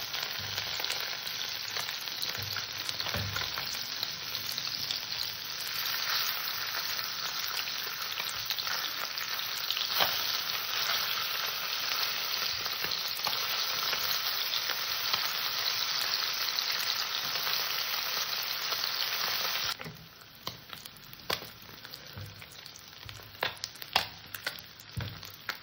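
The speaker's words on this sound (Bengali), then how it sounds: "আমার তেল গরম হয়ে গেছে, মাছগুলো ছেড়ে দিচ্ছি।" Small puti fish fry in hot oil with a loud, continuous crackling sizzle for most of the stretch, then the frying drops away to quieter scattered pops and scrapes near the end.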